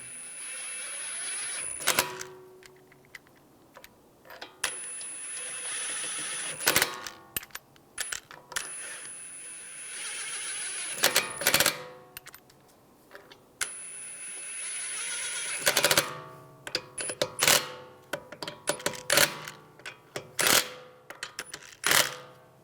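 Lug bolts are threaded by hand and tool onto a 2013-2016 Dodge Dart rear wheel, with repeated metallic clanks, rattles and short ringing pings in irregular bursts, close by, with no one speaking.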